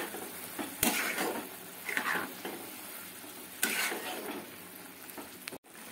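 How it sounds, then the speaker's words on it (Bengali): Poppy seed paste being stirred into a cauliflower and potato curry in a pan, with a steady close sizzle and soft scraping strokes, a few sharper clinks of the spoon against the pan. "আর এখন আমি পোস্ত বাটাটা দিয়ে দিচ্ছি, আর পোস্ত বাটাটা দিয়ে একটু নেড়ে নেবো এটাকে।"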